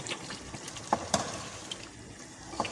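Chicken pieces with garlic and ginger sizzling quietly in a karahi, with a few sharp clinks and scrapes of a spoon stirring.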